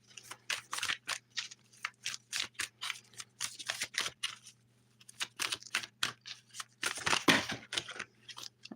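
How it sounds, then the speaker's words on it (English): Divination cards are shuffled by hand in rapid bursts of crisp riffling and slapping, close up, with brief pauses between runs and no talk. "Shuffling for this little daily download."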